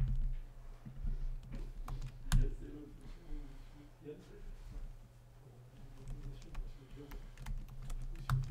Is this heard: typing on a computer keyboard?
yes